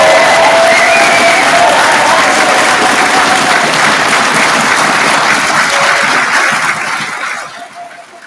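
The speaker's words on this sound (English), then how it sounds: "can I invite everybody to make as much noise as possible and applaud and cheer our brilliant class of" A graduation ceremony audience breaks into loud, sustained applause mixed with cheering from a large crowd in a hall, holding steady before fading out over the last second.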